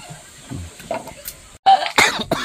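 A single sharp cough bursts out loudly after a brief silence, followed by a rough second cough, with quieter background murmur before it.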